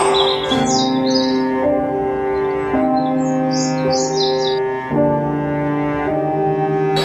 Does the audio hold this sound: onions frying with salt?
no